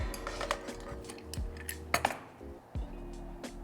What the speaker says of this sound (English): I'm just going to check there's no pressure, take the lid off.